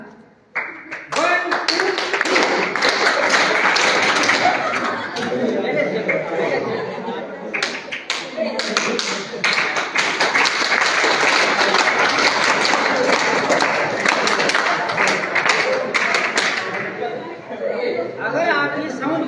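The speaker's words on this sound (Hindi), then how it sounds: "ताली इस बार मेरे साथ बजाओगे" A group of children clap together in a loud, sustained burst of applause, with chatter and voices mixed in and a brief pause midway before the clapping resumes.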